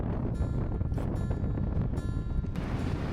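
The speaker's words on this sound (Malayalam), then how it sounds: "പീക്കിലെത്തിയതിനു ശേഷം വളരെ ശക്തമായ കാറ്റായിരുന്നു." Strong wind roars and buffets the microphone on the snowy summit of Snowdon in North Wales, a loud, continuous rushing blast with no break.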